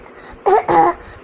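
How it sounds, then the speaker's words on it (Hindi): Two short, close bursts of coughing, the second slightly longer, each clearly audible over a quiet room. "तू खांसी ना करो, खांसी सुनने लग जाती है"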